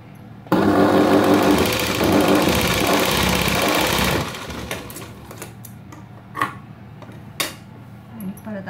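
A sewing machine stitches a pleat on a princess-cut blouse in one loud, steady whirring run of about four seconds, followed by quieter handling clicks and taps.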